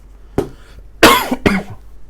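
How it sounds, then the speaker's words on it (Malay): A teacher with a sore throat coughs three times: one short cough, then two stronger, harsher bursts close to the microphone, with quiet gaps between them. "cikgu terbatuk"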